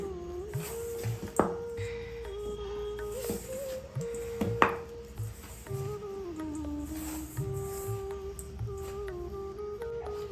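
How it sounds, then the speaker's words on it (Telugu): Flour dough and banana are mixed by hand into a binding paste for lamps, giving soft, wet squishing and kneading sounds in an uneven rhythm, close up and fairly quiet. "ఇప్పుడు దీన్ని పిండిలాగా కలుపుకుందాం. ఇదంతా బైండింగ్ లాగా నీట్గా కలుపుకుందాం."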